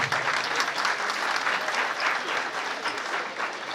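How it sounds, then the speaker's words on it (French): Applause from the audience at a military training school's graduation ceremony, steady sustained clapping from a sizeable crowd, moderately loud with no talk over it. "Le colonel Samandiaï, s'il vous plaît, sous vos applaudissements."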